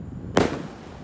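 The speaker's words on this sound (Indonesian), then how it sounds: "Ya, kita nyalakan mercon Bima Sakti 4." A Bima Sakti 4 firecracker launches with a single sharp whooshing burst, loud and close, then a fading hiss trailing off into quiet.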